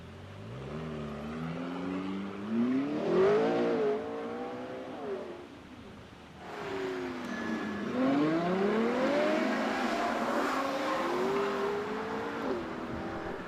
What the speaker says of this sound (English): How good do some of these cars sound?